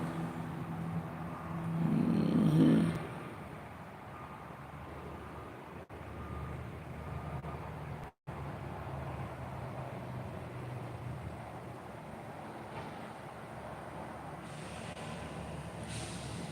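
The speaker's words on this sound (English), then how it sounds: "All you hear is those big trucks going down to the company down the street from me." Heavy trucks roll down a street in a quiet residential neighborhood, a steady low rumble of passing traffic with a louder engine swell early on, heard from a distance without talk.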